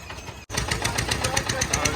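A vehicle engine runs with a rhythmic, knocking pulse, loud and close, briefly cutting out early before resuming steadily.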